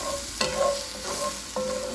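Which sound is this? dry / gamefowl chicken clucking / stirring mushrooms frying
stirring mushrooms frying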